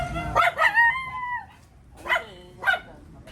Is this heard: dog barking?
yes